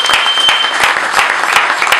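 Loud, dense clapping from a crowd at an organized assembly day for Kongo Moko, with sharp individual claps popping out of the steady applause.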